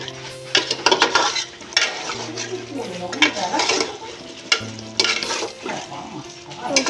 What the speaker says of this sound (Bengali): তাহলে চিকেনটা ভালো করে কষিয়ে নিই